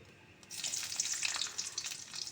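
Whole cumin seeds dropped into hot oil for tempering a hand-mixed masoor dal, a bright crackling sizzle that jumps up after a quiet half second and stays steady and close.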